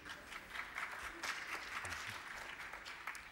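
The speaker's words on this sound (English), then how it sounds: "Why is that a lackluster clap?" Thin, scattered clapping from a small crowd, fairly quiet and short-lived, with a few claps standing out.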